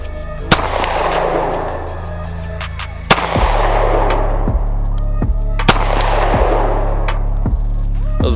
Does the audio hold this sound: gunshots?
yes